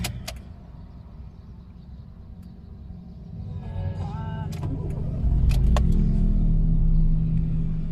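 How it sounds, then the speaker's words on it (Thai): A red Honda Jazz 1.5 E hatchback being started: after a quiet cabin hum and a few faint electronic tones, the engine catches and settles into a steady low idle rumble, heard from inside the car. "เดี๋ยวเรามาทดลองขับนะฮะ เจ้าแจ๊สสีแดงกันเลยนะครับ สตาร์ทกันเลย"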